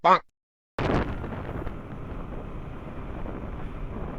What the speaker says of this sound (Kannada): ಈ ಕಡೆ ಸೈಡ್ ಹೆವಿ ಗಾಳಿ ನೋಡಿ